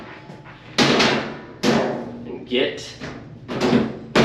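The top panel of an Electrolux dryer is set back in place: a handful of sharp metallic clunks and knocks at irregular intervals, close by, with someone speaking briefly between them.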